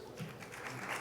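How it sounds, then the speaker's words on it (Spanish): Brief burst of applause at a medical congress, honoring Dr. Natalia Cironi as her session ends; steady clapping from an audience over about a second. "la despedimos con un fuerte aplauso"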